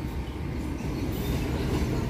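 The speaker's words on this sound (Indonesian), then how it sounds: "Kereta api lokal Bandung Raya diberangkatkan dari stasiun Bandung." A Bandung Raya local train pulls out of Bandung station, giving a low, steady rumble of rolling wheels at moderate distance with no other sounds standing out.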